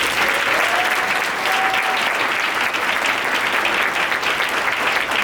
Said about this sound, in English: So let's give them another hand clap.